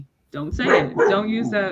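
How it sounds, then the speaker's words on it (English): A household dog barks and yips close by, its short bursts mixed in with and partly masked by a person talking over it. "Like sorry, that's my dog."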